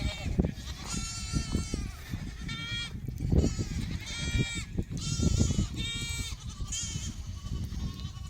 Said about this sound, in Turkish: şimdi oğlaklarla anneleri emişiyor